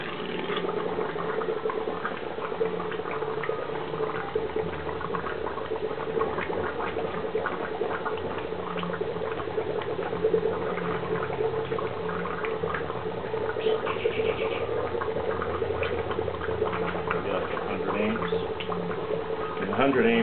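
Gas fed through a bubbler at a high flow rate, a continuous churning, gurgling bubble stream that stays steady and close, with a faint background hum.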